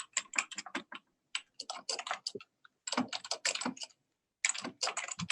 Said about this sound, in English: all we hear is somebody typing